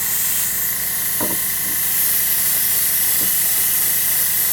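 A new spray gun sprays silver sealer onto a model car in a continuous, close, loud hiss of air and paint. A few faint clicks and knocks sit underneath the hiss.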